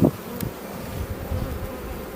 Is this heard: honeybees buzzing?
yes